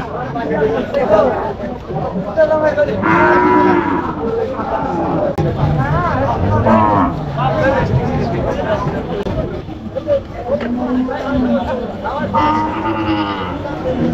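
Calves, bulls and other cattle low and moo at Tebaria Hat, a traditional village livestock market beside the Jamuna river, with several calls rising over busy crowd chatter and nearby talking.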